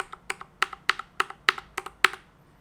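Typing on a NuPhy Air 75 mechanical keyboard fitted with brown switches: about ten crisp, evenly spaced keystrokes at a brisk pace, close and clear with no talking.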